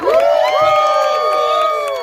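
A crowd at an Ohio political get-out-the-vote rally in Columbus cheers and whoops loudly, a dense burst of shouting voices that stays strong across two seconds before easing slightly.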